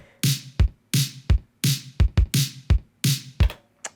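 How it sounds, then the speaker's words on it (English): Punchy, bouncy snare for a beat, sounding like a basketball dribbling, with paired hits repeating in a steady pattern, loud and dry with no voices. "something that sounds like a basketball, like dribbling off of the ground"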